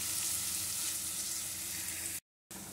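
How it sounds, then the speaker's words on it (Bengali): Spice paste stirred into capsicum and onion frying in a kadai for kaju paneer, a steady close sizzle with a brief dropout near the end, no voices. "এবারে এই ক্যাপসিকাম পেঁয়াজের মধ্যে আমি এই পেস্টটা দিয়ে দিলাম। দিয়ে এবার ভালো করে একটু মিশিয়ে নেব।"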